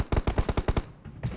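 Video game gunfire in a team deathmatch round: a rapid automatic burst of about eight loud, evenly spaced shots, then a short quieter gap and one more report.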